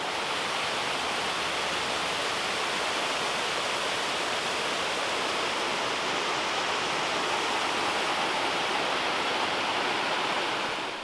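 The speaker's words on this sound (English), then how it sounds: "It's a mini waterfall or stream." Small Victor Falls waterfall and stream at Bonney Lake, Washington, a steady, dense rush of falling water held at even loudness throughout, close and continuous with no voices.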